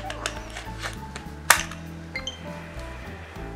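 A Nintendo Switch Joy-Con controller, damaged and bent after being sat on, being slid onto the console rail: soft scraping and a sharp click into place midway, with faint taps around it.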